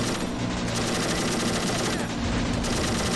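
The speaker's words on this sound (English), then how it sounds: "Pushing up, using the machine guns" Rapid machine-gun fire in the Army Men of War strategy game, a dense, unbroken rattle of fast bursts that fills the whole moment, loud and close.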